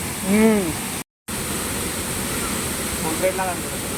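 A waterfall on a village trek fills the air with a steady, broad roar of falling water. Brief voices rise over it near the start and again toward the end.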